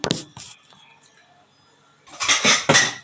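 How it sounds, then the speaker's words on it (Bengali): A lid is set over a cooking pot of simmering fish curry broth, with metallic clanks and clatter at the start, a quiet pause, then a louder burst of pot-and-lid rattling at the end. "ঝোলটা ফুটে আসবার জন্য আমি একটুখানি ঢেকে দেব"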